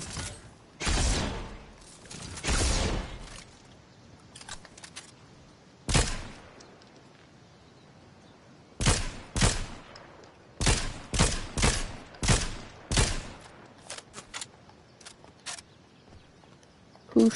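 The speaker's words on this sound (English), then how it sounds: "Who's shooting at me now?" Gunfire in Fortnite, scattered bursts of sharp shots, some isolated and some in quick rapid clusters, loud and close with quieter gaps between.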